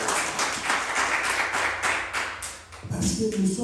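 A church congregation applauding and cheering at the start of a service, a brief burst of loud clapping that swells and then gives way to a mix of voices.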